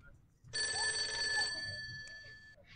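A mobile phone rings with a steady electronic ringtone for about two seconds, loud and close, after which the tone thins out and stops.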